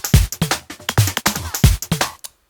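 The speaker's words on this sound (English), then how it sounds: "And then some noise with an envelope following" Noise shaped by an envelope follower in electronic music production, pulsing in quick choppy bursts that rise and cut off rhythmically alongside punchy low thumps, loud and close, ending abruptly.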